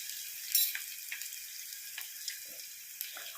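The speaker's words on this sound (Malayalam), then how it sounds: "ആദ്യം നമുക്ക് ഉള്ളി പച്ചമുളകും കൂടെ വഴറ്റിയെടുക്കാം" Onion and green chilies sauté in a pan with a soft, steady sizzle, broken by a few light clinks and stirring scrapes.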